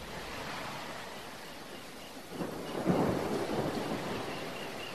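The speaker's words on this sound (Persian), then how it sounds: "پاییز شده و بازم بارون میاد" Steady rain hisses in the background while a low rumble swells midway through, like distant thunder rolling under the downpour.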